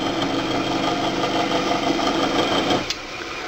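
Antique woodworking machine with some rust on its body running in a woodshop, a steady mechanical hum and whir with a rattling vibration, close and fairly loud, dropping off near the end.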